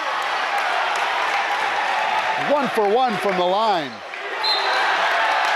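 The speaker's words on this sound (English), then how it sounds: "and the crowd's going wild" A home gym crowd at a high school boys' varsity basketball game keeps up steady broadband cheering and noise after a made three-pointer, while a commentator talks over it.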